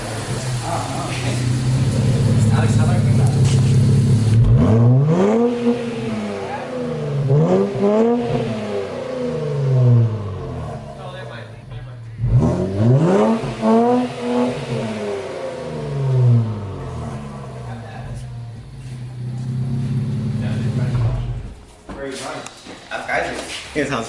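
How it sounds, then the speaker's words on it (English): Infiniti Q50 fitted with Megan Racing lower downpipes, revved twice from idle in repeated rising-and-falling sweeps, loud and close, with a steady idle rumble before and between the revs. "let's get in it, let's give it a few revs."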